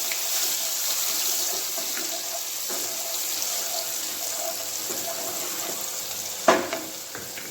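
Green garlic dropped into hot oil already crackling with asafoetida, a steady bright sizzle that runs throughout, with a brief louder spatter near the end.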